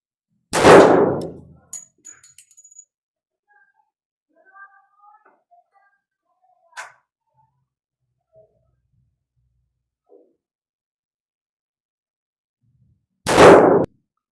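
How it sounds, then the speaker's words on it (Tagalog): Two sharp, loud pistol shots at an outdoor target range during zeroing, about twelve seconds apart, with faint clinks and quiet background sounds in the gap between them. "puputok natin ulit siya ng 2 rounds."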